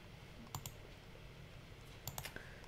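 Quiet computer mouse clicks, a pair of sharp clicks followed later by a quick cluster of three or four, close-up against a faint background hum.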